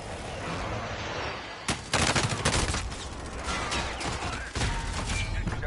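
Gunfire in Call of Duty: Warzone on Rebirth Island: rapid automatic bursts crack through constant background battle noise. A loud, sharp volley hits near the middle, with scattered shots after it.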